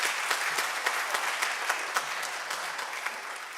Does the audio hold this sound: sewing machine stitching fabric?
no